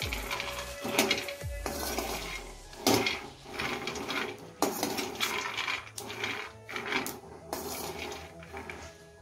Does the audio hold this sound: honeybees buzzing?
no